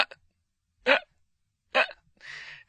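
Several sharp hiccups, short abrupt voiced gulps spaced almost a second apart, close and isolated against silence, the last one breathier.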